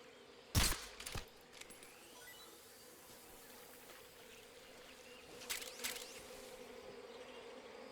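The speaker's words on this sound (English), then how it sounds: "We're gonna ignore this hornet's nest for now." A hornet's nest in the jungle of the video game Metal Gear Solid Delta gives off a steady low insect buzz, with a few sharp clicks and snaps standing out over the drone.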